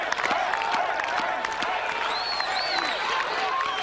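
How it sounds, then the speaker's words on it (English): Spectators at the 1992 World's Strongest Man competition clap together and cheer as an athlete prepares for an event, a loud, dense wash of crowd noise with whistles and a commentator talking over it. "this clapping won't do him any harm at all"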